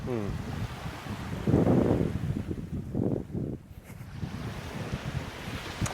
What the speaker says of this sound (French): Le bruit de la mer.